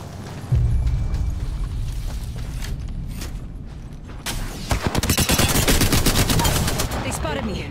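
Apex Legends firefight with repeated bursts of automatic gunfire, loud and dense, growing heavier in the second half with rapid rattling volleys and occasional heavier impacts.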